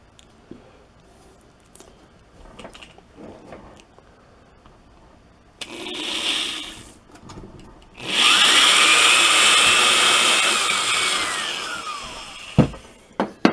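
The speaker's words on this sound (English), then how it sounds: "I'm using a drill that's almost the same diameter as the outside part of the threads on these." A power drill whirs briefly, then bores steadily into wood with a loud, sustained motor whine that slowly drops in pitch before stopping.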